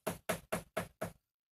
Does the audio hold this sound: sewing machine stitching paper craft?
no